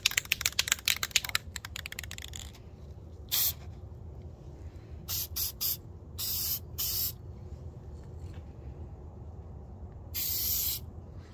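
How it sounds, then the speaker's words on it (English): Short bursts of aerosol spray paint on brake calipers, several separate hissing sprays of a second or two each, with a longer burst near the end, close and fairly loud over a low background hum. "So let's do a little spray here and you can see what we're looking like."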